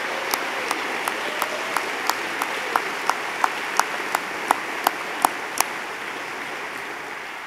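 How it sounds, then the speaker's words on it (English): An audience at a 2024 closing ceremony applauds in a steady, even wash of clapping, with a few sharp claps landing in a regular rhythm on top, all at a moderate level. "Can we give our leaders a round of applause for the excellence they have provided in planning and executing this week?"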